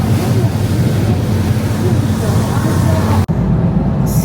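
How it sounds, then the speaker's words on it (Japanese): Rough sea churning around a tour boat near the Naruto whirlpools, a steady loud wash of waves and wind rumble against the hull, with a brief dropout near the end before the roaring water resumes. "なかなか波荒いっすね今日は。"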